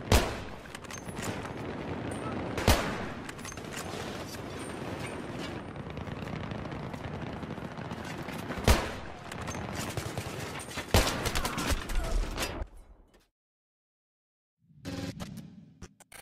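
Dense gunfire in the video game Battlefield, a continuous loud barrage of rapid shots with a few heavier bangs standing out, dropping to silence briefly before another burst near the end.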